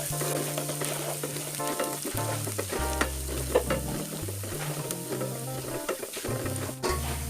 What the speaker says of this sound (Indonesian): Kemudian tumis bawang putih